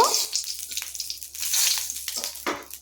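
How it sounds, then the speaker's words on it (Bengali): Potato curry ingredients with a pinch of sugar frying in a pan, a steady close hiss of sizzling oil with soft scraping and stirring noises rising and falling, no voices. "এইগুলোকে ভালো করে আমি ভেজে নেব"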